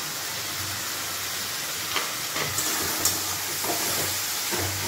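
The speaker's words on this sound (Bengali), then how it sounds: "তো আমি এভাবে নাড়তে থাকছি যতক্ষণ পর্যন্ত মশলাটা কষা হচ্ছে" Masala for mutton curry being stirred and fried in a pan, a steady soft sizzle with occasional scraping clicks of the spoon, fairly quiet and close.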